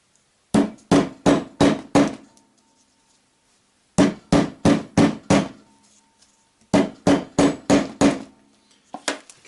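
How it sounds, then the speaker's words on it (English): A hammer taps leather pouch parts into place on a small anvil, three tight bursts of about five sharp strikes each, loud and close, with a lone tap at the end. "tap them into place with the hammer"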